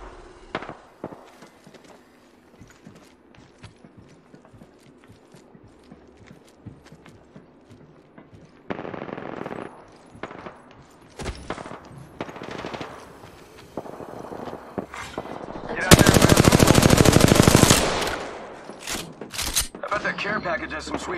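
Weapons fire in the battle royale game Apex Legends on Nintendo Switch: scattered gunshots and a loud sustained burst amid footsteps, mechanical game noises and intermittent talk.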